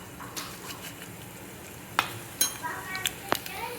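Cumin seeds hit hot oil for a tempering in a sabudana khichdi, giving a faint, quiet sizzle punctuated by a few sharp clinks of a spoon against the pan, with no speech over it.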